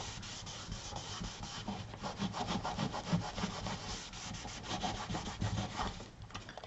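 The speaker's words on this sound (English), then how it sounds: "you can take a rag, and this one is kind of a rough rag, and you just rub like this" A rough rag rubs layering wax off a painted wood surface in steady, close back-and-forth scrubbing strokes that run continuously and alone without pause.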